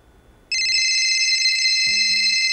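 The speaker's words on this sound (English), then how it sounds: "phone rings with a Waukesha area code" Phone ringing with a loud electronic tone that starts abruptly and holds steady, later joined by a pulsing lower buzz, close and alone with no speech.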